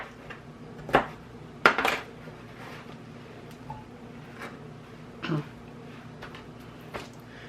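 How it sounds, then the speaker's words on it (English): A knife cutting a skinned red onion on a board for an avocado, tomato and cucumber salad: scattered, irregular knocks and taps, some sharp and close, with quiet gaps between, no talk. "Next, you want to go ahead and chop up your red onion."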